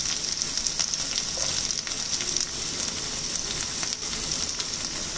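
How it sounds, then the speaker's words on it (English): Spring onion sautés with chilies and garlic in a hot pan for Asian chicken mince, producing a bright, steady close-up sizzle with light stirring and no speech. "We just have to saute them for a minute or two."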